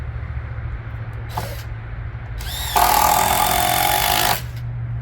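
Power driver sinking screws into wooden wall framing boards for a tiny house or shed, a short burst followed by a longer, louder whirring run of about a second and a half, close by over a steady low hum.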